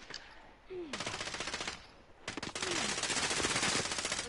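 A gun in a PS4 shooter video game firing in two rapid automatic bursts, loud and close, with a short pause between them.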